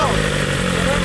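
A BMW S1000 motorcycle engine runs with a strange noise, a loud steady mechanical drone close by while a person talks over it.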